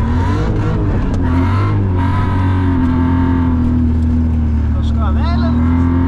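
Car pulling away with a steady loud engine drone that rises as it accelerates, recorded close from inside or beside the vehicle, with voices talking over it.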